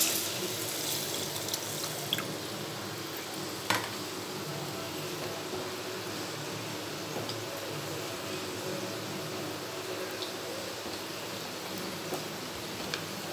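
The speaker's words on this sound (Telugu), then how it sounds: "నెక్స్ట్ మనం చింతపండు నీళ్ళు పోసుకోండి" Tamarind water poured into a pan for bajji pulusu gives a steady watery pour and splash throughout, with a few brief clinks, no talking.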